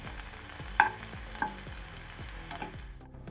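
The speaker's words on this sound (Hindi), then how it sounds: "थोड़ा सा जलने के बाद इसमें लहसुन डाल देंगे, कटा हुआ। अब इसे थोड़ा गोल्डन ब्राउन होने तक भून लेंगे।" Chopped garlic fries in hot oil with red chilli and a bay leaf for a kulath dal, giving a continuous soft sizzle broken by a few sharp clinks of a utensil against the pan.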